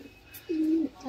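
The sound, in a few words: pigeon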